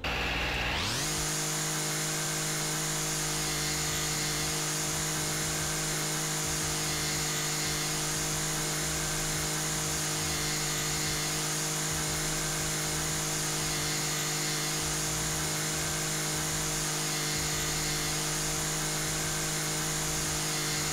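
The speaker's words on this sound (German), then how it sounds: "Ich hab einen fucking Rasenkantenschneider. Einen Freischneider." A brush cutter whines continuously while trimming grass in House Flipper, a loud steady motor drone holding an even pitch for the whole stretch with no talk.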